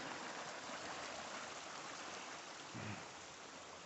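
A creek flowing through woods near Red River, New Mexico, a steady broadband rush of running water heard from nearby, continuous and unbroken, with no one speaking.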